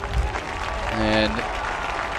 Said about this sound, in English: an appreciative round of applause from this crowd as he gets back to his feet